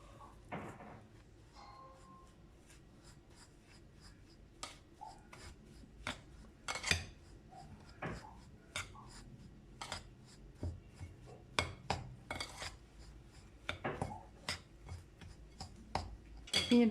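Crushed biscuits and butter are stirred in a bowl, giving close, irregular gritty scrapes and rasps with occasional utensil clinks against the bowl, getting busier as the mixing goes on.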